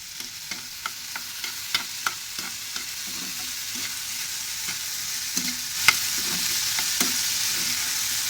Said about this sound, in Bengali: ভাজা করে নিচ্ছি চিংড়ি মাছ দিয়ে।